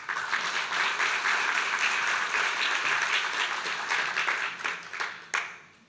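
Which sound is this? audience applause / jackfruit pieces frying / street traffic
audience applause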